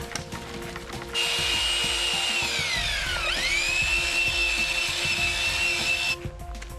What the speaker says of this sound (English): Add the water and mix as you go with the 1/2-inch drill and cone mixer.